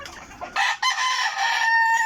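Backyard chickens, with a rooster letting out a loud drawn-out crow close by, preceded by softer clucking, the call rising and holding steadily to the end.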